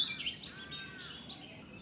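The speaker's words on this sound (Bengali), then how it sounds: "একটা বুলবুলি পাখিও ডাকাডাকি করছে এখানে বসে" A small bulbul calls with quick, high chirps and a short warbling phrase, faint and somewhat distant in a quiet outdoor setting.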